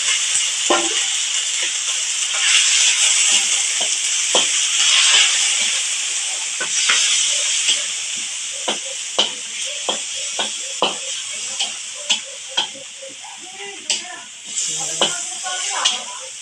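Beef meat hisses and sizzles as it goes into a hot pan during home cooking, a steady frying hiss with scattered pops and utensil clicks growing more distinct toward the end.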